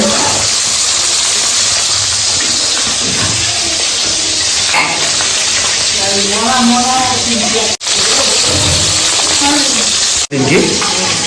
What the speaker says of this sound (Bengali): এখন শঙ্কর মাছ ভাজা হচ্ছে।